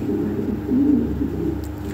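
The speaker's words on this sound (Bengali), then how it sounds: "এক একটা এক এক ধরনের সৌন্দর্যতা, বিশাল সাইজের কবুতর" A large European Lahori pigeon coos at a pigeon fair, a close, steady low warbling coo with one stronger rolling phrase in the middle, heard alone.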